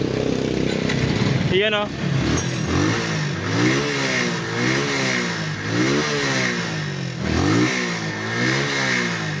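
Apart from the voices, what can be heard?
motorcycle engine running and revving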